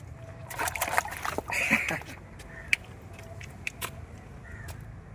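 A sea creature with paddle-like fins is dropped into water, giving a few short, close splashes and sloshes in the first two seconds, then a quieter stretch with faint crow caws in the distance.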